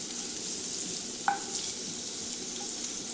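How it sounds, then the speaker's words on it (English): Food frying in a pan while meatloaf is prepared, a steady broadband sizzle throughout with one brief clink near the middle; no one talks. "They're just starting to sizzle"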